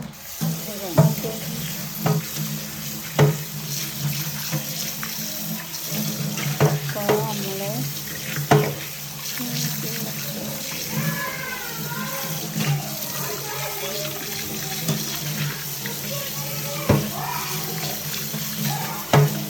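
A black clay appam pot is washed under a running tap, the water gushing steadily and close while the pot knocks and scrapes intermittently against the sink.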